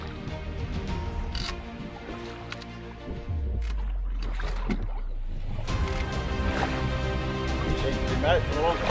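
Small outboard motor pushing a canoe along a river in Gisborne, New Zealand, at a steady low hum with water sloshing, close and continuous, with someone talking over it.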